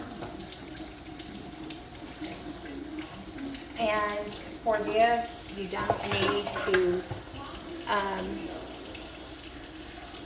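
Tap water runs steadily into a kitchen sink while potatoes are rinsed under it, a continuous hissing splash with louder gurgling bursts in the middle, and someone talks over it.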